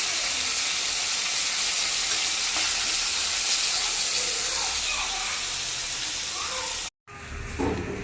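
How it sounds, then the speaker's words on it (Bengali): A fish head fries in hot oil with a loud, constant sizzle and sharp spattering pops, close up, until a brief cut near the end. "মাথাটা ভাজা হয়ে এসছে। এতটাই ফাটছে, এখানে দাঁড়ানো যাচ্ছে না"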